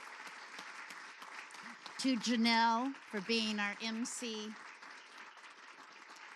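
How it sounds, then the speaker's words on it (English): Applause from a Florida Storytelling Festival audience honouring festival workers, a steady crowd patter running throughout while a voice speaks over it in the middle. "So let's give them a round of applause."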